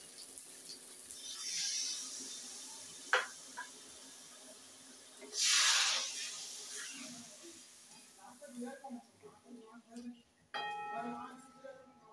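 Water poured from a bowl into hot spiced oil for a Bengali tilapia and potato curry bursts into a loud hissing sizzle at mid-clip, then settles into softer crackling and bubbling among kitchen clatter.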